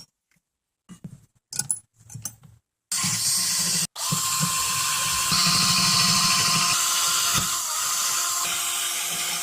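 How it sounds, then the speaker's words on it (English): A ratchet works on the brake caliper bracket of a Lexus ES300. A few scattered clicks come first, then a loud, close, continuous whirring grind runs to the end, broken by one brief pause. "Now we're going to take the caliper bracket off."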